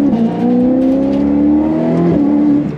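A Ferrari 488 Pista fitted with a Novitec exhaust revs loudly and steadily close by, its engine note holding high and rising slightly before dipping briefly and climbing again.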